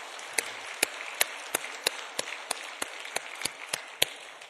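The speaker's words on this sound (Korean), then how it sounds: "다시 한번 격려 박수하겠습니다" A church congregation claps for the choir in slow, sharp, evenly spaced beats, like unison hand claps over a soft room hum, with no one speaking.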